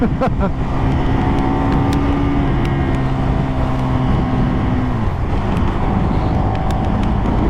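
A KTM SuperDuke 1290 GT motorcycle engine roaring steadily up close, its pitch climbing and then dropping as it shifts gears, with loud wind rush throughout.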